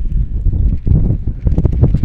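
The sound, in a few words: strong wind at a baseball game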